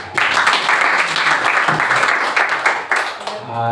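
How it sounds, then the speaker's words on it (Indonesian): A church seminar audience applauds at length, dense clapping filling the room steadily for several seconds before starting to thin out. "Tepuk tangan dong sekali lagi buat Bapak Gembala kita malam ini"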